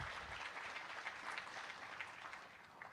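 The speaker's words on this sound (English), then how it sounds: "So I'd like to get one more round of applause for all the speakers for providing such an excellent program." Conference audience applauding all the speakers, a faint, even patter of many hands clapping, heard from a distance at low volume throughout.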